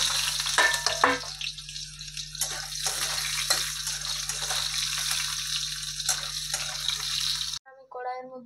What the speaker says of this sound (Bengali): এখন আমি আলুগুলো লাল লাল করে ভেজে নেব